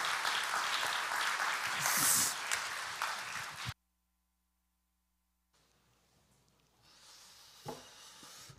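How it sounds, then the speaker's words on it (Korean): A church congregation claps at a Sunday worship service, a few seconds of dense applause that stops abruptly, then quiet room tone and a softer, brief swell of clapping. "박수 한번 할까요?"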